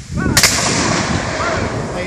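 Civil War reenactors at a Cheatham Hill battlefield site fire rifle muskets in a single company volley, one loud near blast followed by a long rolling rumble and echo that fills the rest of the moment.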